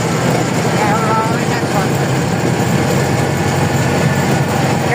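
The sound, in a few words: tractor engine running during a journey to Kathmandu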